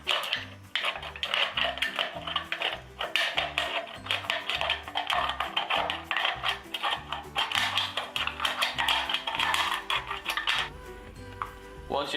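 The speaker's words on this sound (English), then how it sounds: "using a pair of scissors, cut the can in half" Scissors cut through an aluminium drink can: a close, continuous run of crunching, clicking snips with a rough metallic rasp, fairly quiet, ending with a few lighter scrapes.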